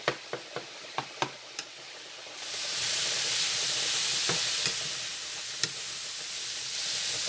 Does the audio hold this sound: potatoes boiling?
yes